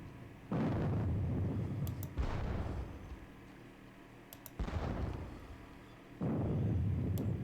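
Artillery guns firing in a Waterloo wargame: four heavy booming blasts arrive at irregular intervals, each a loud, broad rumble that slowly fades, with faint clicks scattered between them and no speech.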